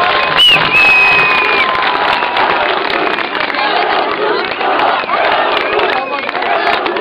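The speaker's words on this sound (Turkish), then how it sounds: "sizlerden güçlü bir alkış rica ediyorum" Crowd applause and cheering at an AK Parti election office opening in Alifuatpaşa, dense and loud throughout, with a brief whistle-like tone near the start.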